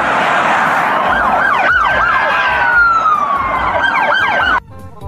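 A toy police car siren wails in a loud rising-and-falling electronic pattern, close and continuous, then cuts off abruptly near the end.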